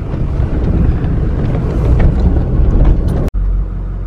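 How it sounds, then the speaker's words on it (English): A car drives a road toward a trailhead in Arizona's Superstition Mountains, a loud steady rumble of engine and road noise with heavy wind buffeting and one brief dropout near the end. "Driving up to our hike this morning."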